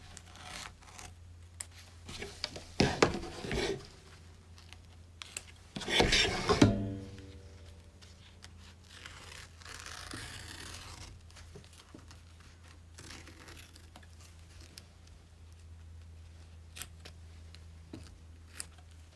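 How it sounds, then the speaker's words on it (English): Scissors snip and rasp through quilt batting around a zipper on an in-the-hoop purse, with two short cutting bursts close by in a quiet room and faint handling noises between them. "first off, I am going to trim my zipper"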